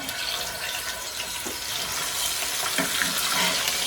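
Red snapper fillet sizzles loudly in hot oil in a pot, a dense, steady crackling hiss that fills the whole moment without pause and with no voices.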